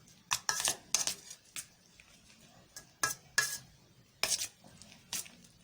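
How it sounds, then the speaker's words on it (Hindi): Spoon or spatula clattering against a pan while mixing cooked rice with egg for Korean-style egg fried rice, several sharp scraping clinks in short bursts, close and clear with no talking. "इसको अच्छे तरीके से मिक्स करें कि चावल जो है सब जगह अंडे में मिक्स हो जाए।"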